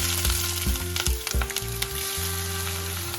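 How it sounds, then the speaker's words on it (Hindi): Onions fry in hot mustard oil in a kadai, a dense continuous sizzle close by, broken by several stirring knocks and scrapes of a spatula in the first half. "जैसे ही हमारा तेल गर्म हो जाए इसमें डाल देते हैं प्याज"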